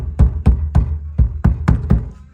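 Knuckles knocking on a car's underbody trim panel, seven close, loud, hollow knocks in an even rhythm with nothing else heard.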